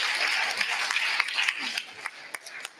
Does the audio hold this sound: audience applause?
yes